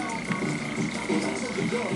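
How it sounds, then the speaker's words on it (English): American toad croaking in a tank, a steady low rough call continuing for two seconds at moderate level with a faint tonal hum alongside. "this is the American toad"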